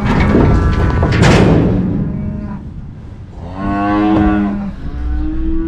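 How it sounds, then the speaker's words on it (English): Cattle moo loudly and close by, several long bellowing calls with a pause between, as cows gather near calves being loaded into a trailer on a farm. "The cows were ready to follow those calves."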